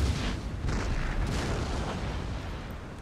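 Cannon round shot from Empire: Total War hammering down in a dense, continuous barrage of booming impacts, loud and rumbling throughout with no talk over it.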